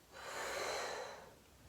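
A single soft, breathy exhale through the mouth, rising and fading over about a second, quiet and close.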